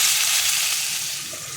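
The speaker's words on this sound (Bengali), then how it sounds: "দেখো পটল আর আলু আগে একটু জল দিয়ে সেদ্ধ করে নিয়েছিলাম এবার এটাকে ভেজে নিচ্ছি" Boiled pointed gourd and potato frying in a pan, giving a steady, close hiss of sizzling oil that fades slightly through the short stretch, with no voices.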